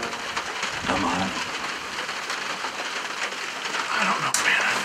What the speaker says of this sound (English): It's raining, it's nasty weather.